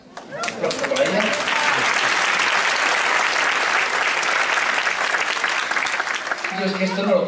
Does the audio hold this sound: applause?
yes